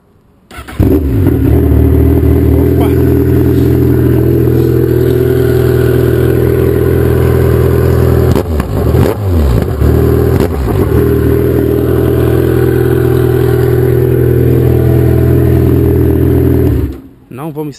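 A 2012 Kawasaki Z1000 motorcycle engine with a 4-into-1 exhaust idles with a steady low rumble, then revs up sharply a few times before settling back, loud and close, on a street.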